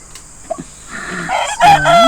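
A rooster crows loudly near the end, its long harmonic call rising and falling, after a few quieter clucks and rustles.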